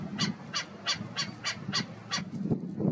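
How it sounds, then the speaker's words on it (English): A Hawaiian stilt, or Ae'o, gives a rapid series of about seven sharp, yapping calls in even rhythm, fairly close and loud over a low background rumble. "Another unmistakable element of the Ae'o is their vocalizations."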